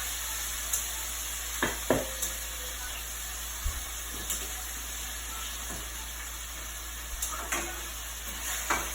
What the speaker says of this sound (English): we want to make sure that the oil is very hot, because remember, we just want to sear it